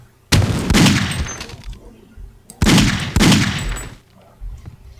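Two loud bursts of gunfire from Black Ops soldiers in Half-Life: Opposing Force, each a close, rapid volley of shots followed by a short pause.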